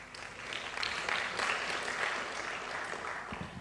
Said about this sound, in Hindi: ताली बजाने के कितने पैसे देने पड़ते हैं यहां पे?